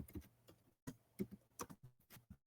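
Rapid, irregular clatter of keys struck on a computer keyboard, close and fairly quiet, in short bursts with brief pauses and no talking.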